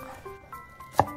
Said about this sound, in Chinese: 脱衣后切成蒜蓉